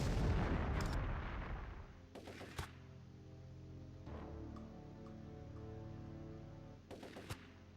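Gunfire in Turok 3 rings out as a heavy opening barrage followed by several sharp, separate shots over a steady low rumble.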